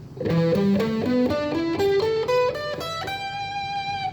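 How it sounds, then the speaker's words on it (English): A distorted electric guitar plays a rising sequence of sustained notes, loud and saturated, ending on a long held tone. "we're going to add some distortion"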